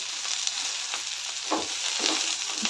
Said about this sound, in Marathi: तेलामध्ये भेंडी आणि कांदा फ्राय करून घ्यायचा आहे चांगला